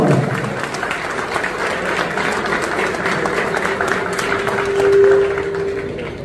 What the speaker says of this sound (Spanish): fuerte ese aplauso de David Galeano